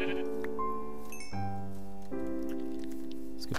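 Blocky farm sheep in Minecraft bleat in a string of several drawn-out, wavering calls that overlap and shift in pitch, loud and close, with a voice briefly mixed in.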